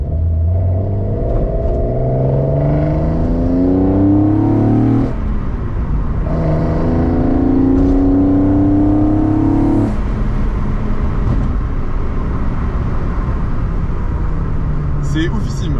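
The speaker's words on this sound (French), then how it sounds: "On dirait que ça fait le bruit d'une ligne d'échappement, sauf qu'en fait c'est pas à l'échappement, c'est à l'admission." A BMW E36 325i fitted with an M3 intake revs repeatedly, its induction roar climbing and falling in pitch in loud, close sweeps over a steady engine rumble.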